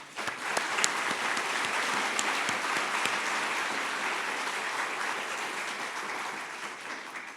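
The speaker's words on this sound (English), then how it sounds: "please join me in giving a huge round of applause to Embold Credit Union" A packed room gives a sustained round of applause for Embold Credit Union at a fundraising event, steady crowd clapping that holds level before easing off slightly at the end.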